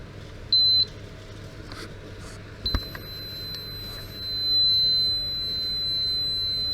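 A multimeter sounds a thin, steady continuity tone over a relay's wires. It comes as a short beep, then a longer sustained beep that runs through most of the clip, with a faint click in between and a quiet room behind it.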